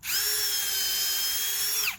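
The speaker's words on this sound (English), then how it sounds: "I'm going to take my drill for pre-drilling, and I'm going to drill a pilot hole at the top" Power drill boring a pilot hole into pallet wood for a raised garden bed, a steady high whine held for about two seconds before spinning down, close and loud with no talk.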